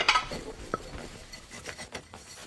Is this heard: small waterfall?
no